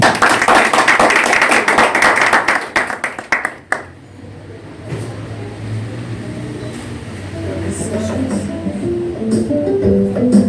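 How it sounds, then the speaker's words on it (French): An audience at an awards tribute ceremony breaks into loud, dense applause for a few seconds, then it cuts off abruptly, leaving a quieter room where music begins to play. "Mesdames et messieurs, sur vos applaudissements"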